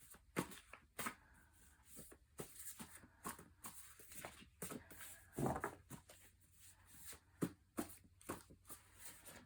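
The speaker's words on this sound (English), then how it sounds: "These cards are so hard to shuffle." A stiff deck of cards being shuffled by hand gives repeated soft riffling and slapping bursts in an irregular rhythm, close but fairly quiet, with no speech over it.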